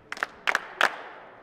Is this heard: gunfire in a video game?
no